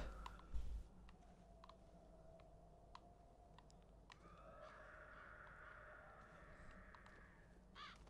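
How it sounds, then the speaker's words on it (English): Crows caw in the video game ZOMBI, drawn-out calls sounding faint and distant against a low background hum, with scattered clicks throughout. "They were crows."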